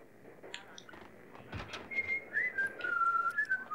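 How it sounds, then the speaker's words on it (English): A character whistles a melodic tune in the Max Payne video game, clear and sustained over a quiet ambient game background, growing steadier and louder toward the end. "They all whistle the same tune, don't they?"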